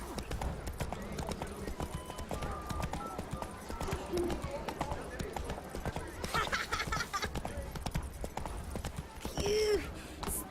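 Roach the horse galloping in The Witcher 3, a steady run of hoof clip-clops at moderate distance, mixed with in-game voices and other ambient sounds, a brief snort near the end.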